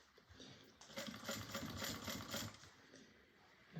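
Sewing machine stitching a bag, a quiet rapid mechanical whir with a fast even rhythm running for a few seconds, close but faint.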